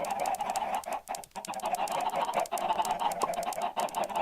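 Many chickens in the Minecraft Feed The Beast modded game cluck and squawk over each other in a dense, continuous flock chatter, with a faint repeating ticking and no talk.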